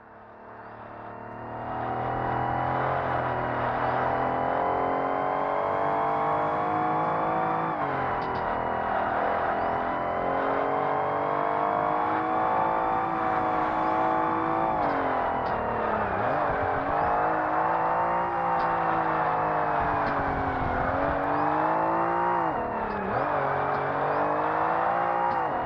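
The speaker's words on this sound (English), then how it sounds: "like the exhaust that we upgraded on this thing. It sounds really good." Steady engine drone and exhaust note from an upgraded car in Forza Motorsport on the original Xbox, holding a sustained tone with gear shifts and pitch dips as it drives, with no talk over it.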